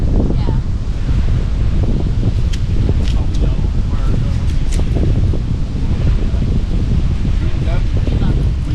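Strong wind buffets the microphone on a Bahamas beach, a loud steady roar running the full length with rustling, and people talking underneath.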